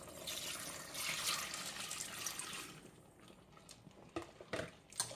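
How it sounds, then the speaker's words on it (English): Water pours in a steady rushing stream into a pot of vegan fifteen-bean chili for about three seconds, then stops, followed by a few light clinks and knocks of the pot and utensils, close and fairly quiet. "Now I'm going to add the rest of my water."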